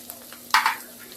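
Baby potatoes for dum aloo masala are stirred in a hot pan: one brief scraping, sizzling stir over a faint low background hiss.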